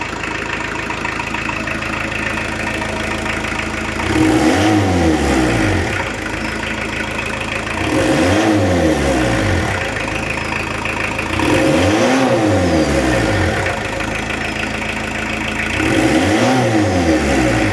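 A 1986 VW T25 camper van engine, left standing since 2017, runs at a rough idle and is revved four times in a regular pattern, each rev swelling loud and close, with no talking.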